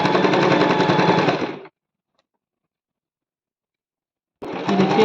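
A sewing machine stitches a salwar design in a rapid, dense run that stops abruptly. Silence follows for a few seconds, then the close, loud stitching starts again.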